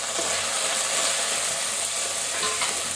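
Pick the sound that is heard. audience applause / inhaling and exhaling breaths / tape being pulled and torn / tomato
tomato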